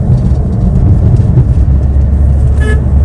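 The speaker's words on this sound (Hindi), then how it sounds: "इसको होन दिया" A car horn gives a short honk while overtaking on a highway, sounding briefly over a loud, steady rumble of engine and road noise.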